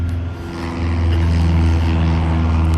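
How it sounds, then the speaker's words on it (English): A small propeller airplane takes off, its steady droning engine hum swelling slightly louder over a few seconds, heard alone at moderate distance. "Look, it's a little airplane."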